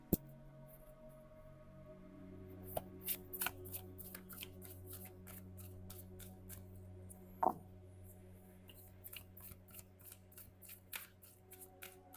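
Tarot cards being shuffled in a Hindi tarot reading, with soft repeated riffling and snapping taps scattered over a steady low background hum, no one speaking.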